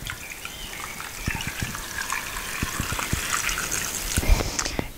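Water gushes and trickles as it is poured into a flower vase holding a spring arrangement of foraged blossom and hawthorn, a close continuous splashing that rises slightly toward the end.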